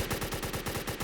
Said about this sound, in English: this turret will actually lead the shot a little bit based off of how fast they're moving